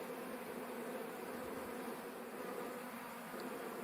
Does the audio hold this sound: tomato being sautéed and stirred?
no